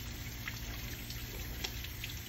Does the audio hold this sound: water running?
yes